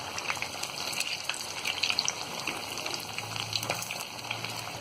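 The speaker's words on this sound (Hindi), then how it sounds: "और कटलेट जब यहाँ दोनों तरफ से अच्छी तरह फ्राई हो जाए, ये गोल्डन ब्राउन हो जाए" Poha and potato cutlets fry in hot oil over medium-high flame after being flipped, giving a steady, close crackling sizzle with faint bubbling and no voices.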